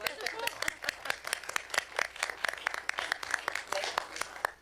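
A small group of board meeting attendees clapping in a room, a thin, fairly quiet patter of separate hand claps lasting several seconds.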